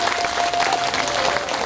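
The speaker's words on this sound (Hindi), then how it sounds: "ताली जोर से बजा के बढ़े।" An audience applauds loudly at a Gondi storytelling and religious discourse, a dense, continuous clatter of many hands from start to finish with no voice over it.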